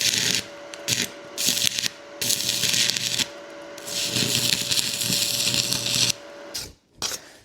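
Two steel side-axle ends butted together and welded shut for a three-wheeler exhaust, a steady buzzing crackle in long bursts with short pauses between, close and loud, with no talking.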